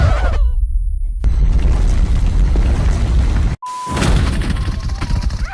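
A grenade explodes in the PUBG Mobile game, a sharp loud blast with a rumbling crash and debris, followed after a brief dropout by another burst of noisy impact sound.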